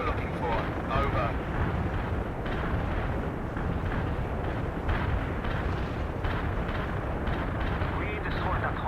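Artillery barrage in the real-time strategy game World in Conflict, a continuous rumbling roar of firing and blasts with voices talking over it.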